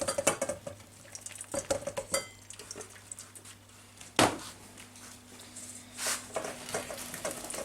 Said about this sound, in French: je le passe au moulin à légumes